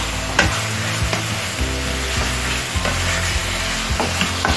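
Fried pepper hake fish being stirred in a hot pan, with a loud steady sizzle and repeated scraping strokes of the spoon at a close distance, and no talk.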